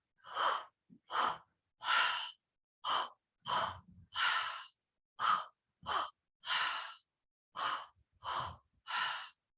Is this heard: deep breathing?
yes